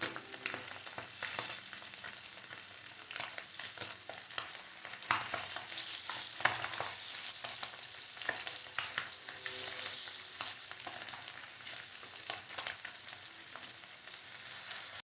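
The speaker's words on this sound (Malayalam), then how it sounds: "ഇപ്പോൾ നമ്മുടെ മീൻ ഫ്രൈ ചെയ്തെടുക്കാം." Fish frying in oil for a homestyle Kerala fish fry, a steady close sizzle with bubbling crackle and occasional sharper pops and scraping spatula stirs throughout, with no talking.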